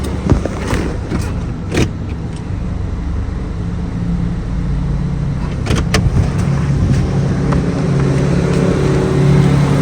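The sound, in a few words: Honda Accord 10th gen with lowering springs driving over speed bumps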